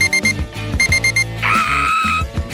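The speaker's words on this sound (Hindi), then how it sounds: "एक अलार्म जो मुझे नहीं चाहिए था" Alarm going off, a loud electronic alarm tone pulsing in rapid repeated beeps, then a sustained ringing burst before the beeps resume, close and alone without talk.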